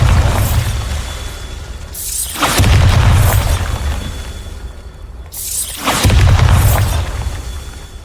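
Bombarda blasting spells explode in Hogwarts Legacy: two loud, heavy booms a few seconds apart, each a sharp burst followed by a long rumbling decay.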